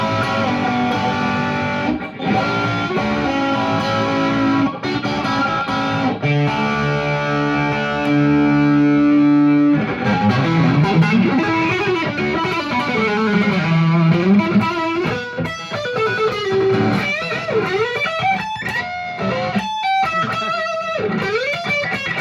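A 1965 Fender Stratocaster played through an EVH amp with heavy distortion, sustained chords and bending lead lines ringing loud and continuous with effects.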